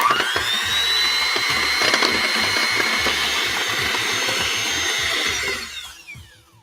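A blender whips heavy cream and sugar into stiff peaks, its motor a loud, steady whine that holds for several seconds, then winds down and stops.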